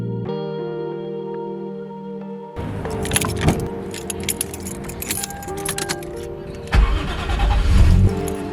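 Toyota JZX100 fitted with an HKS FCD, with a humming tone and rattle of keys before the engine cranks and catches, then settles into a low, uneven idle caused by a missing IAC, heard close up.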